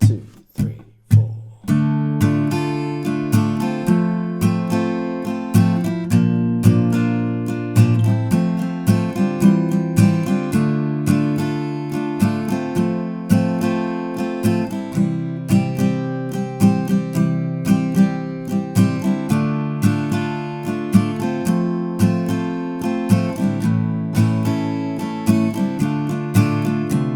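Fingerpicked acoustic guitar plays the intro and chorus chord progression of a song in a steady rolling pattern. It is close and clear, starts with a few count-in strums and has no voice.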